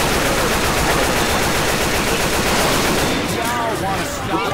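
Dense, continuous gunfire pours at the Tank in Left 4 Dead 2, a loud, sustained stream of shots mixed with other game noise that thins slightly near the end.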